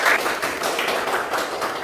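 Audience applause in a university teaching session: a steady, fairly loud patter of many hands clapping that continues evenly throughout, with no voices over it.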